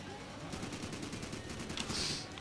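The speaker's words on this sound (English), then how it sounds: "AK-47. All right, let's shoot these bears, too." AK-47 fire in a zombie video game, aimed at zombie bears: a rapid, rhythmic automatic burst of evenly spaced shots, loud and continuous throughout.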